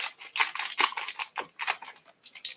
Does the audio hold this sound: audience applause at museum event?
no